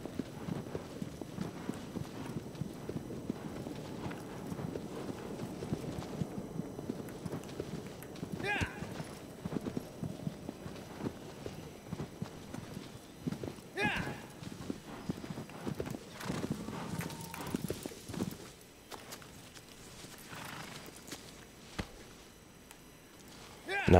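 Horse hooves clip-clopping in a steady galloping rhythm in the video game Shadow of the Colossus, continuous throughout with occasional whinnies, while someone talks over it.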